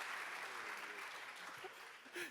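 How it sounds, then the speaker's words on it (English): An audience at a panel discussion event claps in a brief, even round of applause, dense and fairly faint, swelling slightly near the end. "give Mika a round of applause to begin with."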